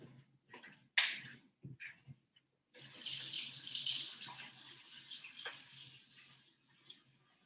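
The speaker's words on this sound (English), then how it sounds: "So for the green beans, I'm just gonna rinse these real quick and then come back over." Green beans rinsed under a running cold-water kitchen tap in a home kitchen, a steady splashing stream after a few clunks and knocks, fairly close and moderately loud, with no talking.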